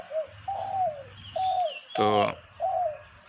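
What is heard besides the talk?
dove cooing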